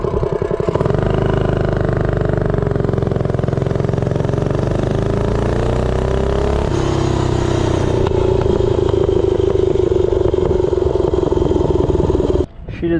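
A Doodlebug minibike with a 70-tooth rear sprocket roars up from a standstill to 30 mph, its small engine droning loud and close, pitch climbing steadily for about twelve seconds before cutting off abruptly.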